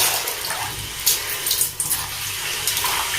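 Water running and splashing steadily while mercury is kneaded and washed by hand, a continuous close gushing wash like a tap into a basin, with no talking.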